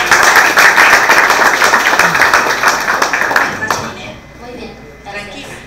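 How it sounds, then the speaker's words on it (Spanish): An audience at a regional school competition final in Guna Yala bursts into loud clapping that fades over a few seconds, with voices heard as it dies away. "Un aplauso para Chainet."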